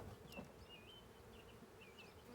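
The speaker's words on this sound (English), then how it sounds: "I got a lot of bees in this box," A honey bee swarm hums inside a hive box during an install, giving a steady dense buzz with occasional louder passing bee whines, alone with no talk.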